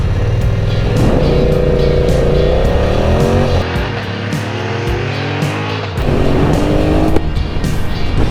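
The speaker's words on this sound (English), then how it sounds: "let's see how she goes off the start." A BMW motorbike pulls away from a standing start, its engine revving hard and climbing through the gears with loud rising whines and brief dips at each shift, close and dominant throughout.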